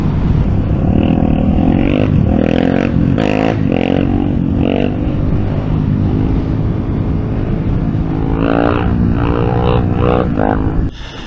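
A 2022 Yamaha MT-07 motorcycle on a test ride, its engine droning loud and close with rising and falling revs mixed with heavy wind rush throughout.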